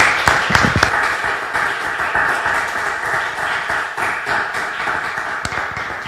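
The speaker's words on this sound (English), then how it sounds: "perhaps we could give Michelle a formal, round of applause" A seated lecture audience gives a steady, dense round of applause for a speaker: close, continuous clapping that holds at an even level from start to finish.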